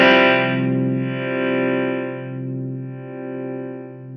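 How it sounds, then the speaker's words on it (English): An electric guitar chord rings through a Keeley Verb O' Trem pedal in harmonic tremolo mode, its sustained tone swelling and dipping in a slow, swimmy, vibe-like pulse as it gradually decays. "almost like vibe-like little wah-wah back and forth, modulated, swimmy sort of thing. It's still tremolo"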